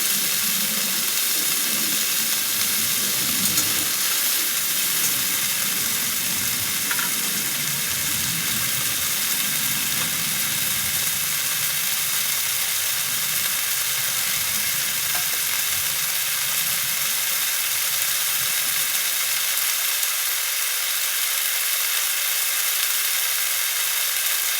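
Okra and potatoes frying in a pan for a curry, a loud continuous sizzle and hiss with soft stirring scrapes throughout, dropping slightly near the end.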